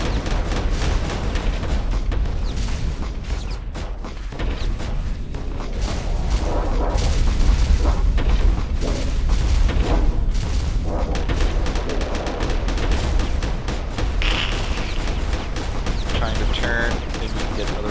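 Missile strikes and explosions in the space combat game Starfarer land as a dense barrage of booms and blasts, loud and continuous, with someone talking over the battle.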